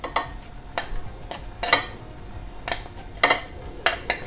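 Chopped carrot, onion, capsicum and green chili are stirred into rice, with soft shuffling and several sharp scraping strokes of a spoon against the bowl at irregular intervals, close and clear.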